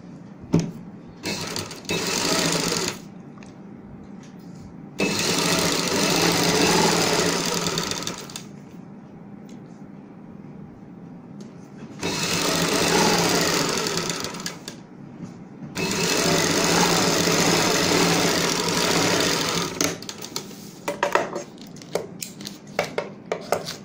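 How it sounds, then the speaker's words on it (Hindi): A sewing machine stitches a strip onto the hem of palazzo pants in several loud runs of rapid whirring, separated by short quiet pauses. "इतना गैप रखते हुए यहाँ पे भी हम सिलाई से अटैच करेंगे।"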